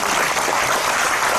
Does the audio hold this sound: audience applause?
yes